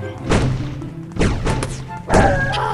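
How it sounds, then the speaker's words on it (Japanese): A big explosion in a jailbreak video game bursts out as a series of heavy booming thuds and crashes, three loud impacts in quick succession with ringing tails. "あ、すごい大爆発だ。"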